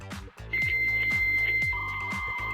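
Electronic startup tones from an American Girl toy computer: a steady high beep with a second tone joining, over repeating rhythmic chiming blips.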